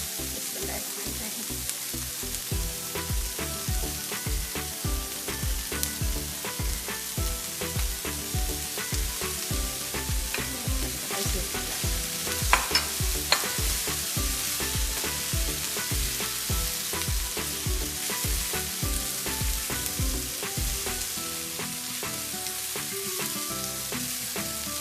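Rice for chicken fried rice crackles and sizzles steadily in a hot pan, with dense continuous frying and stirring noise, close and moderately loud, with no talking.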